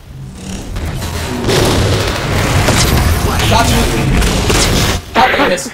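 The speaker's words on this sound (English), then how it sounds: "This is like so much flashing and explosions and crap." Explosions and gunfire in the Halo 4 video game roar as a loud, continuous rumble of booms and blasts, with sharper bursts near the end and a stretch of quieter background first.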